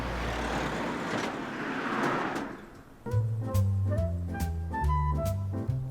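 A Morgan Plus 8 sports car fitted with a big turbo: a steady rumbling roar for about three seconds, then a lower, throbbing engine note with regular pulses, heard close and fairly loud with no talking.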